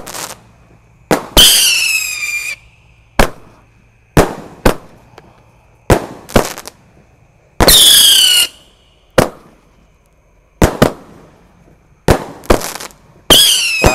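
A 25-shot Roman candle box firing before dawn in a village, sharp loud pops with whistling crackle tails bursting out repeatedly at uneven intervals over about fourteen seconds.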